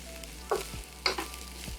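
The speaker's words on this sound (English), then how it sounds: "We're going to cook our cabbage, stirring occasionally to let it really soften and sweat out all the moisture." Shredded cabbage with salt stirred in a hot pan, giving a few short scraping stirs over a low steady sizzle, close and fairly quiet.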